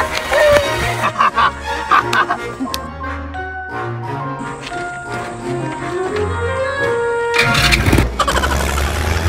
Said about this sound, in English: Mera mini tractor.